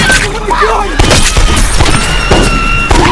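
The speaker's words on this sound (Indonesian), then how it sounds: "Suara tembakan menggema di seluruh rumah menewaskan seluruh penghuni di dalamnya" Loud, sharp gunshots boom in quick succession, echoing through a house amid a dense, chaotic mix of sound, with voices partly audible underneath.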